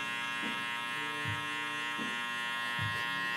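Electric hair clippers buzz steadily at close range during a skin fade haircut, with a constant motor drone and faint rhythmic pulses as the blades pass over the head.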